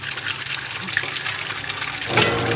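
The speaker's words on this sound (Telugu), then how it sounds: "ప్లేట్లో వేసుకున్నాక కూడా మళ్ళీ ఒకసారి ట్యాప్ కింద పెట్టి మళ్ళీ ఇంకోసారి మంచిగా క్లీన్ చేస్తున్నా" Chicken legs are rinsed under a running kitchen tap, water splashing and gushing steadily, then swelling louder near the end as the flow hits them directly.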